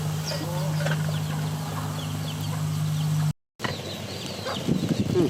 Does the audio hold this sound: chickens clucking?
yes